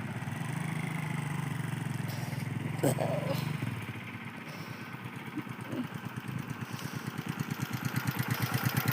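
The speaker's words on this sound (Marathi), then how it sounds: "ती आणली गाडी वळून आता" A vehicle engine runs steadily at close range as it turns around on a farm, with a rough, pulsing idle that grows more rhythmic and slightly louder toward the end.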